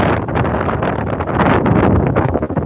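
Strong gusting wind buffets the microphone on the Las Vegas Strip, a loud, continuous roar that surges and dips without letup, with no talk over it.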